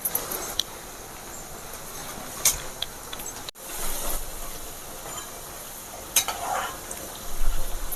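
Chana dal and moong dal roasting dry in a pan and stirred, a soft steady crackle with scattered scraping clicks and a few louder stirring strokes near the end.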